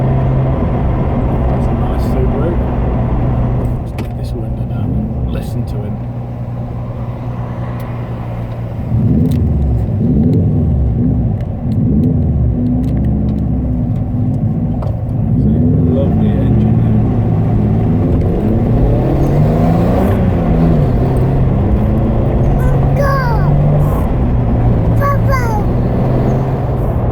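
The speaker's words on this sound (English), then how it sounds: "That's a nice Subaru. Let's get this window down and listen to him." A Subaru car's engine revs and drives past, heard through an open window as a low rumbling that swells and fades over the whole stretch. People talk over it throughout.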